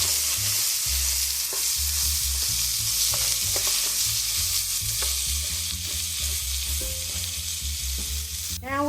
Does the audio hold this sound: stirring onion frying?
yes